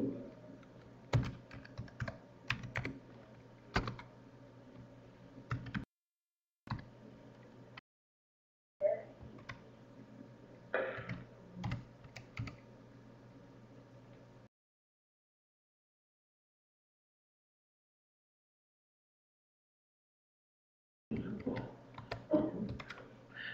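Close-up clicking of a computer keyboard as a username and password are typed in bursts, with short pauses between runs of keystrokes, a long silent gap, then a final burst of typing.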